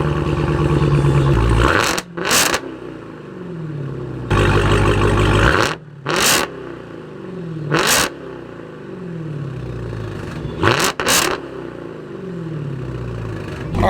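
Dodge Demon and Nissan GT-R Nismo engines rev hard on a drag track at Speed Vegas, loud repeated blips rising and falling with sharp bursts between, about six throttle stabs in quick succession.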